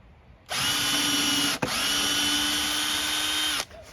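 A DeWalt impact driver whirs steadily at close range for about three seconds, broken by a brief sharp click partway through, then stops abruptly, with no talk.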